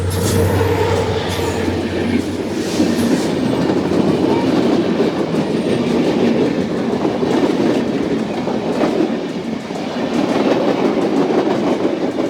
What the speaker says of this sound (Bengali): এই যে ট্রেন কিন্তু ঢুকতেছে, দেখেন।